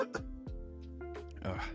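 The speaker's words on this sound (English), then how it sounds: "sorry, don't mean to cough in your ear" A couple of short, throaty coughs close to the microphone, with brief vocal sounds between them.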